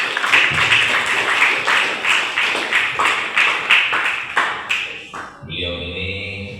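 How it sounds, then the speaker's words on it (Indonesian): A room full of people at a senior high school civic outreach session claps in a lively, uneven burst that fades out, followed by a musical tone as the applause ends. "Tepuk tangan semuanya."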